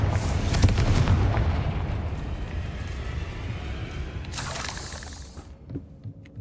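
Booming blasts from the Confringo fire spell in Hogwarts Legacy, a heavy rumbling explosion early on, then sustained low roar with a second burst near the end, loud and close.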